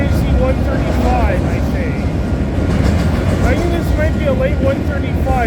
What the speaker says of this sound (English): Looks like this is a late CPKC 135, I think.